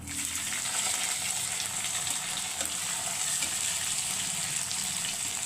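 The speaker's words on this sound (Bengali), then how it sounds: "বাদ বাকি যে পেঁয়াজটা ছিল যেটা মাংসে মাখা হয়েছে তারপরে সেটা আমি এবার কড়াইতে দিয়ে দেবো" Onion and marinated chicken fry in oil in a wok for pepper chicken, making an even, continuous close sizzle with soft stirring scrapes and no talking.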